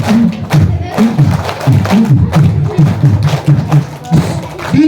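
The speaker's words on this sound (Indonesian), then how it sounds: "Sambil tepuk biar semangat." A group of children clap rhythmically along with an Indonesian storyteller, the claps landing in quick, uneven bursts with thuds and a lively mix of voices in the room.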